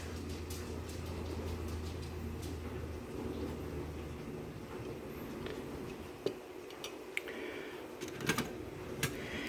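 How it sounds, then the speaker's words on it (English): A home kitchen dishwasher runs in the background with a steady low hum and churning, while faint clicks and light clatter come through near the end. "And I'm, again, running my dishwasher"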